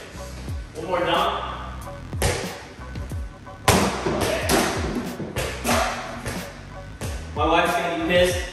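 Repeated thumps and rattles of a basketball slammed through a Little Tikes Adjust and Jam Pro indoor mini hoop, loud and close, scattered across several seconds amid movement noise.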